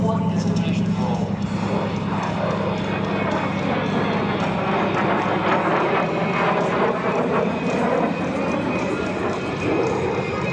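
A T-33 Shooting Star jet performs a low, fast four-point hesitation roll at an airshow, its engine a loud continuous roar throughout, with an announcer talking over it.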